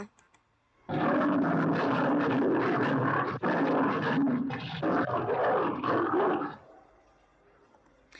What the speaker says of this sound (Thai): ใช่เสียงสิงโตหรือไม่ ใช่นะคะ มันคือสิงโตนะคะ